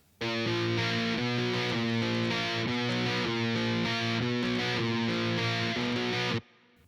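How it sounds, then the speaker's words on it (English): A heavily distorted electric guitar plays thick, gritty chords in a steady rhythm in Shin Megami Tensei: Digital Devil Saga style music, loud and sustained, then cuts off abruptly. "the guitar has more distortion than in the jazzy songs, so it sounds grittier and stronger"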